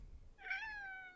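A cat gives one drawn-out meow with a rising then slowly falling tone, fairly faint and alone after a brief low rumble of room noise.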